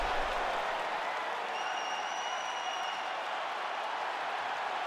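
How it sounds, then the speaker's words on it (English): Virtual arena crowd in the UFC 5 fighting game applauding and cheering between rounds, a steady broadband roar of clapping held at even loudness throughout, with a faint high tone drifting across the middle. "So the crowd voicing its appreciation after that round."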